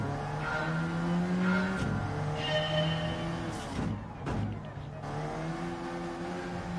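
A car engine in the racing video game Gran Turismo 7 hums and shifts through gears as it accelerates, fairly quiet overall, with tonal revs rising and dropping and brief gaps between shifts.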